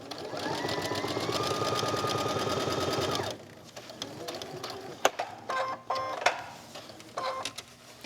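A sewing machine stitches steadily around a pillow square, running in a fast, even mechanical rhythm for about three seconds before stopping, followed by quiet handling clicks and taps.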